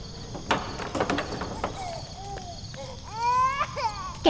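An infant in a story setting cries in thin, wavering wails that rise toward the end, with several rising whimpers over a noisy background of clatter and faint insect-like hiss; no talk.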